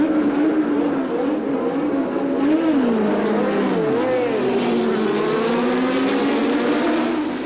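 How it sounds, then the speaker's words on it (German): Maurer MM82 BMW Formula 2 race cars at the Hockenheim Jim Clark race, engines howling loudly and continuously, pitch rising and falling as cars pass, with no talking. "Es ist das Inferno der heulenden Triebwerke, der Powered Engines, was auf die Zuschauer niedergeht."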